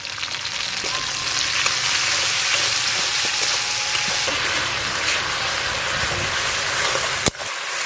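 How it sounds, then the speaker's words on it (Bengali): Onion and tomato fry together in leftover fish-frying oil seasoned with panch phoron, giving a steady, close sizzle with faint stirring, ending in a sharp knock near the end. "পেঁয়াজ আর টমেটো একসঙ্গে ভালো করে ভাজা ভাজা করব"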